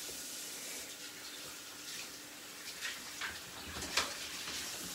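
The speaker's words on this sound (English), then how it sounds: "I like to give this a rinse before I start." Water runs steadily from a faucet to rinse a blender jar with a little dish soap, a soft continuous hiss with a few faint splashes and clinks near the end.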